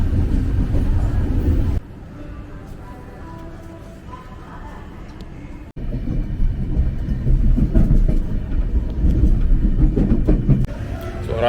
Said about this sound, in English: Pretty good train, bit busy, but it's to be expected.